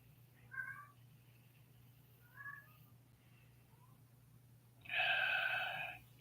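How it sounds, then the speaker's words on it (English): A cat meows in a basement: two short, soft meows a couple of seconds apart, then a louder, longer drawn-out meow, over a low steady background hum. "Here, my cat's down here in the basement."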